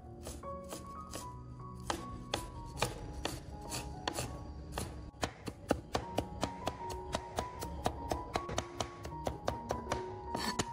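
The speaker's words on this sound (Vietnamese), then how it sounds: "Hành tím ở đây mình sử dụng là 20g, băm nhuyễn ra." Shallots are minced with a knife on a cutting board in a home kitchen, a steady run of crisp close chops that speeds into rapid, even strikes, with no talking.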